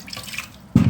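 Water splashes and gushes in a short, loud pour into mayonnaise ingredients, close by, after a quiet moment.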